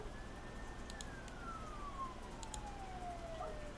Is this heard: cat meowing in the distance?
no